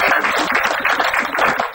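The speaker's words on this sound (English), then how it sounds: "A big round of applause." Audience applause at a startup weekend event in Islamabad, a brief loud burst of dense clapping lasting under two seconds.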